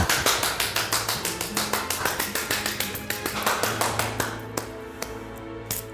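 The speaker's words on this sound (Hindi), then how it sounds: "तालियां बजाओ।" A steady run of sharp, evenly spaced hand claps, roughly five per second, loud and close, with a low tonal music bed underneath and the rhythm breaking into a few looser claps near the end.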